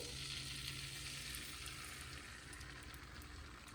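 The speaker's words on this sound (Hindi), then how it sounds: "अब इसी ही तेल के अंदर, मक्खन के अंदर हम ये अंडा डाल देंगे, थोड़ा थोड़ा करके।" An egg fries in a mix of hot butter and oil, giving a steady, close sizzle and crackle that keeps going with no break and eases off a little toward the end.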